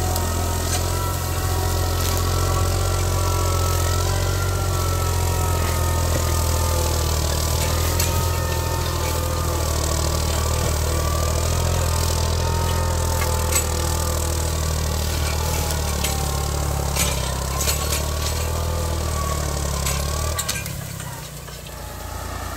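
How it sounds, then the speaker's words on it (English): A used farm tractor engine runs steadily on farmland in Batéké plateau, Kinshasa, Congo, a continuous low mid-pitched drone with faint rev variations, close and loud, cutting out near the end. "This is the used tractors I've been using to plow all my fields here, all my farmlands."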